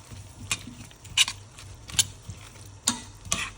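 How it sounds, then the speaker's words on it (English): A spoon stirs celery and fried herbs into a Persian celery stew (khoresh karafs) in a pot, making a handful of light, distinct clinks and scrapes spaced about half a second apart over a low background. "So now we give this a good mix."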